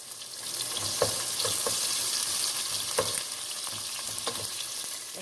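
Onions fry in hot coconut oil in a pan, a steady close sizzle with occasional stirring clicks and scrapes punctuating the bright crackle, no talking.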